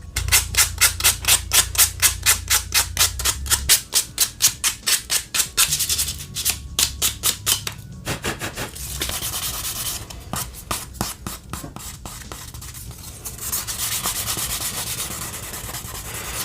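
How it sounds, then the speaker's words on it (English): A vintage wooden fingerboard deck is sanded by hand, giving rapid rhythmic rasping strokes, loud and close, first in a steady fast run and then in slower, irregular passes, with no talking. "It's nicely hand sanded."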